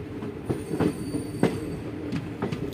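Kakatiya Express passenger train rolling along just after leaving a station, heard from inside the coach: a steady rumble with rhythmic wheel clicks and faint squealing, close and loud, no talk.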